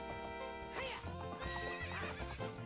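Epona the horse neighs in a Zelda game, with loud, shrill whinnies rising and falling over a busy backdrop of game music and hoof clip-clops.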